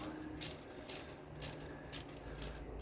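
Ratchet clicking in short bursts while valve cover bolts are tightened one at a time on a 2001 Honda CR-V, five quick ratcheting strokes spaced about half a second apart, close and fairly quiet with no talking.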